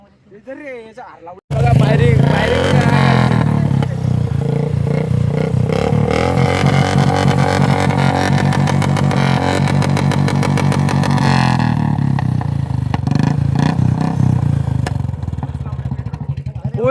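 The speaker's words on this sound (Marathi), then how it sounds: "फुल गाडीचा पुन्हा आवाज एकदम गरम केली गाडी" A motorcycle engine revved hard after a brief quieter start, a loud, continuous growling roar with clattering mechanical texture that holds near and steady, with voices talking over it.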